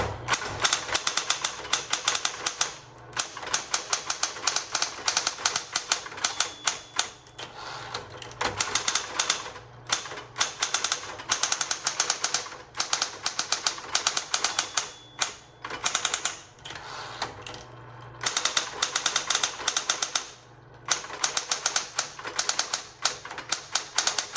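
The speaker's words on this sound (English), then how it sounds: "an electric typewriter is a little bit louder than others" A 1960s Coronet Electric 12 typewriter clatters in fast, dense bursts of keystrokes, loud and close, with brief pauses between runs and a low mechanical hum underneath.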